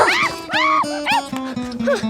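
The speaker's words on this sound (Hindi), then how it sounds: "अरे आज मोती भौंक रहा" A dog named Moti barks and yelps repeatedly at close range, a fast run of high, strained barks with whimpering pitch bends, loud and continuous across the moment.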